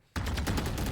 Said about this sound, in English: Ooh, and Duck and Red gets a wall bang on 2